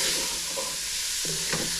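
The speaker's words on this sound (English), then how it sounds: "I lowered the heat now, so I'm just going to cook this a little bit until the garlic and onions are very lightly softened" Garlic and onion frying gently in a pan over low heat, a steady soft sizzle with occasional stirring scrapes, close and alone without talk.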